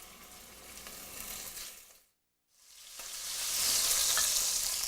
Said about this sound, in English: What we're going to do next is start putting our meat into this hot pan.